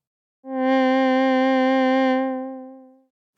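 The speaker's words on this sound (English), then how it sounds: "we need a sine wave LFO at around 4 Hz, and we apply this very lightly on the pitch" A bright, buzzy synthesizer oscillator with light 4 Hz sine-LFO vibrato on pitch, a gentle, slow wobble holding steady for about two seconds, then fading out smoothly.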